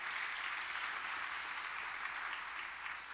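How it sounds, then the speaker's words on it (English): A crowd claps steadily in a continuous wash of applause, fairly distant and even in volume, with no voices standing out. "one more round of applause for all of our new and upgraded CEP partners"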